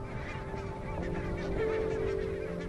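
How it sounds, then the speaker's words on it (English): Barnacle geese wintering at a Scottish river honk continuously, a dense overlapping chorus of many birds with steady background noise and no talk. "Every winter, barnacled geese arrive right on cue at the same Scottish river."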